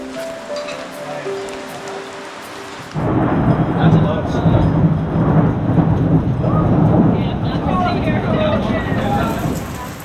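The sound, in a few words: heavy rain with thunder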